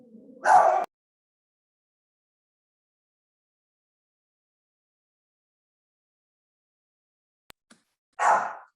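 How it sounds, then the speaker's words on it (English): A dog barks twice, a short bark near the start and another about eight seconds later, with near silence between. "Oh, and then my dog barked, I'm sorry."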